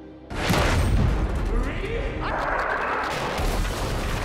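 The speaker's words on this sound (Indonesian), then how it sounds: "pasukan darat Amerika yang menembakkan artileri" Film sound effect of artillery fire from American ground troops in a World War II setting: a sudden heavy boom followed by rumbling blasts and crashing debris, loud and close, with a voice speaking over it.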